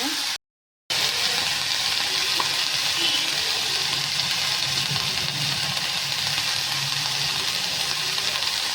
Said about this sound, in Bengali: সবজিগুলো একটু ভেজে নিচ্ছি